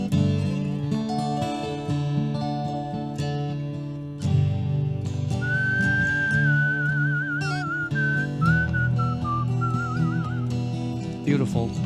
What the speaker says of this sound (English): we could just do the chords and the whistled slide guitar part.